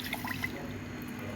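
Half a cup of water poured onto sugar in a small pot: a soft, close trickle and light splashing with small drips throughout, with no talking.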